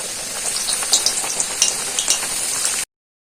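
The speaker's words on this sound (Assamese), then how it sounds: "ৰিফাইন অইলখিনি গৰম হোৱাৰ লগতে মই ভটুৰিকেইখন দি দিম।" Bhature sizzling and crackling in hot refined oil, a dense continuous fry with small popping bursts throughout, close and loud, ending abruptly.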